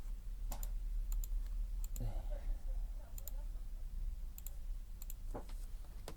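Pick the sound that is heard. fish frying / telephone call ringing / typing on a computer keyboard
typing on a computer keyboard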